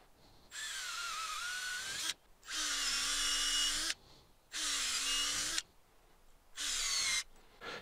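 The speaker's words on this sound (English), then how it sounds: "And now we're ready to start drilling." A power drill whirs in four separate bursts, each lasting a second or two with short pauses between, close and fairly loud, drilling rows of holes for growing mushrooms.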